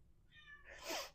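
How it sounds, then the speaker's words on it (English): A cat gives a short, faint cry, a brief meow followed by a breathy burst, in a quiet room. "So if you hear Bubbles crying, it's because he thinks he's hungry"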